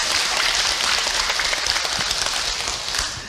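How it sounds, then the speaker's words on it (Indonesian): An audience of women at an Islamic sermon gives a dense, steady round of applause that fades slightly toward the end, with no talking over it. "Tepuk tangan atuh Bu."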